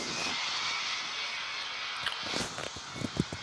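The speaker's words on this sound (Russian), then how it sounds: "Самолетик летит там на посадку" A small plane drones steadily overhead as it comes in to land, a constant engine hum that swells slightly toward the end, with no talk over it.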